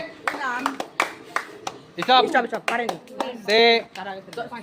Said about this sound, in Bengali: খুব সুন্দর, সবাই হাততালি